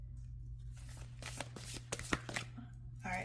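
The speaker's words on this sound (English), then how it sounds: "All right, I'm just going to shuffle over here" Tarot cards are shuffled by hand in a run of crisp riffles and soft slaps close to the listener, with a steady low hum underneath and no talking.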